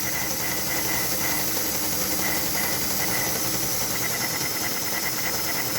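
A model steam engine, NGS RB engine number 1, runs on rollers with a loud, continuous hissing roar of fast exhaust chuffing blended into a steady rush, close by and without pause.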